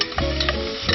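Squid cooking in olive oil with garlic in a pan, a close, steady sizzle with a few stirring scrapes over about a second.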